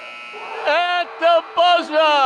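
A buzzer sounds at a high school boys' basketball game between Lynn Classical and Everett, heard as several loud, harsh, steady blasts separated by short gaps over gym noise.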